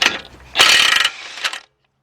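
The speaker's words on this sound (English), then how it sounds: "use your gun to take off the nut" An impact gun rattles in short bursts while removing the lower ball joint nut on a 2011 Jeep Patriot 2.0, close and loud, stopping into silence.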